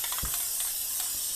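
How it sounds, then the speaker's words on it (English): A can of embroidery adhesive spray hisses in a few short, soft bursts against a quiet room background. "This is a spray designed strictly for embroidery"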